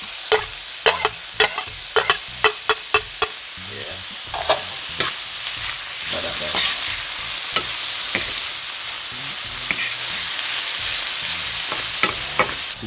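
Saltfish frying in a pan for a Jamaican-style dish with cho cho and breadfruit, a steady close sizzle broken by a quick series of sharp utensil scrapes and taps early on, then scattered stirring knocks, with no voices.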